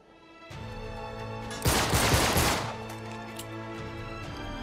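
Gunfire in the video game Uncharted 3: Drake's Deception aboard a cruise ship, a rapid burst of shots in the middle over a continuous droning in-game background hum.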